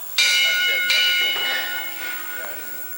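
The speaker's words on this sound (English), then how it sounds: "Referee Perry calls for the bell." A wrestling match ring bell clangs sharply three times, the first two strikes close together and a fainter third later, each ringing on under a murmur of arena noise.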